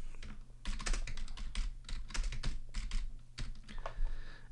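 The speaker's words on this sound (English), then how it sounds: "So if I type in some text" Text being typed on a computer keyboard, quick uneven clusters of soft plastic key clicks at close range, with brief pauses between bursts.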